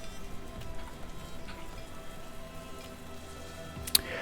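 Rain in the video game Patron, a soft steady patter of drops on surfaces, faint and even throughout, with one small sharp tick near the end.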